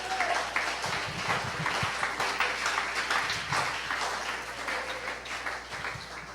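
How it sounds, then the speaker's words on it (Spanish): A church congregation applauds during a sermon, a continuous wash of many hands clapping at moderate loudness, fairly even throughout. "Démosle ese aplauso al Señor."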